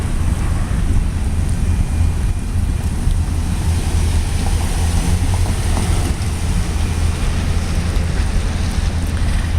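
A Union Pacific train rumbles past in Shakopee, a steady heavy low roar with wind buffeting the microphone throughout, loud and continuous for the whole stretch.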